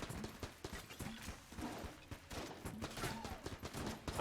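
Rapid bursts of sniper rifle fire from the Enter the Gungeon video game, a dense, rhythmic string of sharp shots running nonstop and fairly loud.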